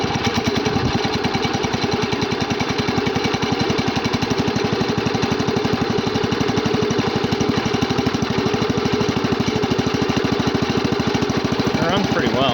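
A 1963 Cub Cadet 70 garden tractor engine runs cold, a steady loud chugging idle with a fast even firing pulse throughout, close by and alone.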